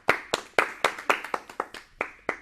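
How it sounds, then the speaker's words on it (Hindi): A small number of hands clapping for a 12-year-old badminton player in a children's program, about eleven distinct, fairly sharp claps in an uneven rhythm, close and sparse rather than a full crowd. "इसके लिए एक बार जोरदार ताली तो"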